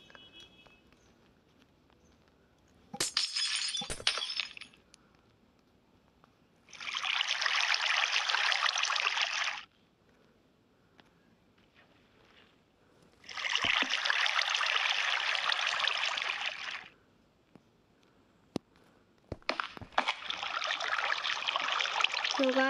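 Water is poured from a bucket in a blocky building video game, three rushing whooshes of a few seconds each separated by silence, with brief clicks and taps between them.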